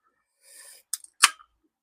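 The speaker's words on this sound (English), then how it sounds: "let's crack this can of Coke open" A sharp metallic crack and fizzing hiss as a can of Coke is pulled open, preceded by a brief rustle, then a short burst of escaping fizz.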